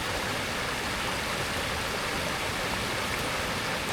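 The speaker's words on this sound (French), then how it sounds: "il y a plein de cascades éphémères tout le long de la paroi" Ephemeral waterfalls pour down a cliff face after rain in Madagascar, a steady, broad, continuous rush of falling water with no pauses, filling the whole soundscape evenly.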